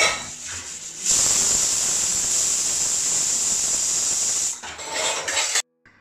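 A loud, steady hiss of steam venting from a pressure cooker cooking keema biriyani, holding for several seconds before tapering off with some clatter at the end.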